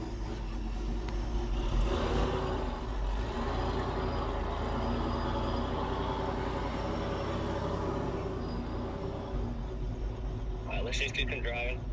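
Supercharged Chevrolet Silverado pickup from Texas Speed driving on the street, a steady low engine and road drone heard from inside the cab, continuous and moderately loud, with people talking over it.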